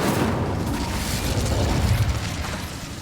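Incendio fire spell cast in the Hogwarts Legacy video game, a dense roaring whoosh of flame with booming rumble, loud and continuous for about three seconds without speech.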